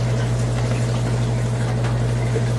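A colonic irrigation machine fills with water, giving a constant low mechanical hum under a steady liquid rush with no talking.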